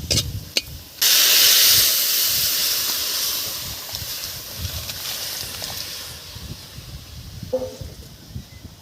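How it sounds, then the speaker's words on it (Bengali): Split grass-pea lentils tipped into a hot pan of browned fried onions set off a loud burst of hissing steam and sizzle, which slowly fades into a steady simmering crackle. "এখন আমি ডালটা ঢেলে দেবো।"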